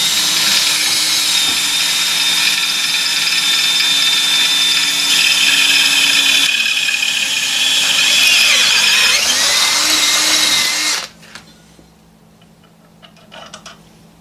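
A power drill bores holes into a Bomford hedge trimmer during a repair, a steady loud whine that slows and labors near the end before cutting off abruptly, leaving a quiet tail with faint clicks.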